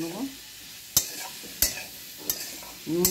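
Fried fish and fried potatoes with dried chillies being stirred in a pan for prawn chowmein, with a few sharp scraping clacks over a soft sizzle.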